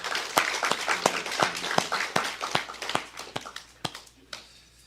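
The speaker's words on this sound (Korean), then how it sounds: "우리 하나님께 영광의 박수 올려 드리겠습니다." A congregation at a Korean Sunday church service claps, a run of sharp, scattered hand claps that thins out and fades toward the end.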